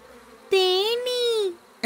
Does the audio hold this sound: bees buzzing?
yes